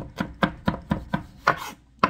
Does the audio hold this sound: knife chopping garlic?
yes